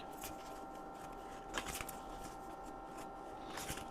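Tarot cards being shuffled by hand, producing a few soft, brief papery riffles over a quiet background, with no voices.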